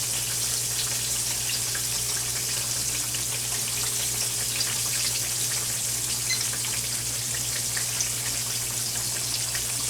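Sliced green tomatoes frying in hot grease, a steady dense sizzle and crackle that continues evenly throughout with a low hum beneath and no voices.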